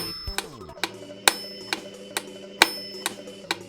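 A track plays in 3/4 time: a loud, steady musical beat with sharp percussive hits recurring at regular intervals over sustained low tones, heard alone.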